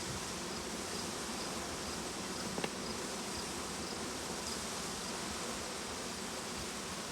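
Honeybees hum in an open beehive, a dense, even buzz held close and steady throughout, with one faint click partway in.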